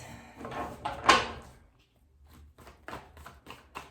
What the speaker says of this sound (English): Shuffle a few times.